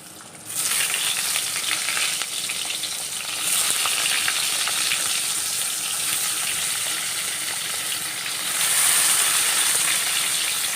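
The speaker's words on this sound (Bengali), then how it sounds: "এই বেগুন ভাজাটা হবে" Loud, continuous sizzling of eggplant frying in oil, the hiss swelling a little partway through, with no talking.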